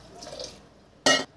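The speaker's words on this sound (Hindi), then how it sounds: "इसमें थोड़ा सा पानी डाल के घोटती हूँ मैं," A short splash of water is poured into a cooking pot of boiled rice in a home kitchen, a brief loud gush following a quiet stretch of faint background sound.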